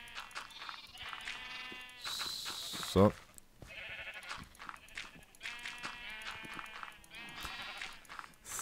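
Sheep in the Minecraft video game let out a single short bleat near the middle, surrounded by someone speaking German almost throughout.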